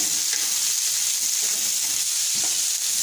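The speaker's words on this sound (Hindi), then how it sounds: "तो अब इसके अंदर मैं शामिल करूँगा वेजिटेबल, और इसको हल्का सा फ्राई करेंगे।" Vegetables fry lightly in hot oil, giving a continuous bright sizzle with faint stirring scrapes, close and steady, with no voices.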